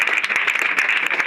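A congregation at a church deliverance service bursts into dense, loud applause and acclaim, a brief wash of rapid clapping.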